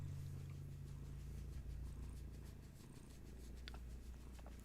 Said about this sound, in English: Hey, little kitty.